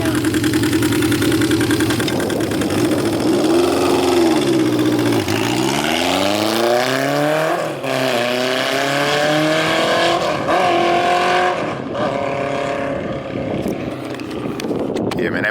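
A customized cruiser motorcycle passes by, its engine loud and close, then falling in pitch with a rising and sweeping drone before fading out, with talk mixed in.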